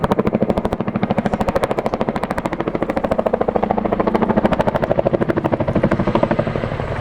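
An RAF Chinook twin-rotor helicopter flies at an air display, its loud, steady rapid blade thump pulsing continuously and close throughout, with no talk.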